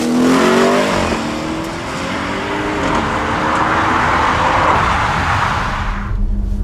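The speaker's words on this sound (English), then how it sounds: "the introduction and fitment to the Audi Sport Akrapovic titanium exhaust system" An Audi RS6 Performance fitted with an Akrapovic titanium exhaust revs loudly and close by, a sustained roaring engine note that rises through the rpm range and holds before cutting off near the end.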